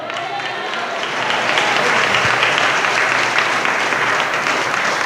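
A church congregation claps together in a sustained, dense burst of applause that swells after the first second and holds steady, filling the room without speech.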